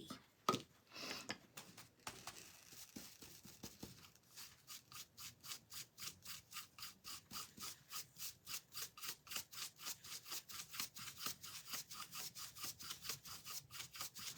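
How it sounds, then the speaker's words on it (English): Dry brushing paint onto a bunny craft piece: a steady run of quick, rhythmic bristle scrubs, close and dry, repeating evenly after a few scattered opening strokes. "I just have to dry brush everything."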